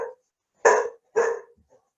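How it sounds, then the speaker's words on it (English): A pet dog barks three times nearby, loud, sharp woofs with short pauses between them, then a faint trailing whimper, with no talking. "that's my dog"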